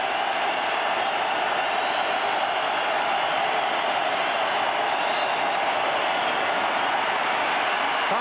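A packed football stadium crowd at the 1994 Miami vs Syracuse game, a steady, loud roar of many voices and cheering that fills the whole stretch without a break.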